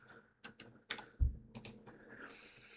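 Typing on a computer keyboard, a short burst of quick, sharp key clicks up close in a quiet room, with one heavier thump midway.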